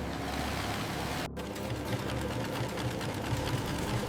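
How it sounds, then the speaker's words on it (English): A heavy-duty industrial sewing machine stitches through multiple layers of thick cow leather on a factory floor, a steady fast mechanical chatter with rhythmic knocking, continuous and close, briefly dipping once, with no voices. "Heavy-duty sewing machines are required to stitch through multiple layers of thick leather."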